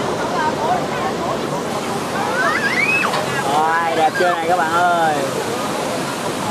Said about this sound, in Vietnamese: Đây là nước thác chảy xuống nè.